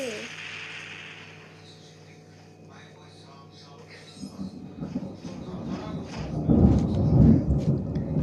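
A rainstorm with a steady hiss of rain, then deep thunder rumbling in and swelling loudly through the second half, with soft voices underneath.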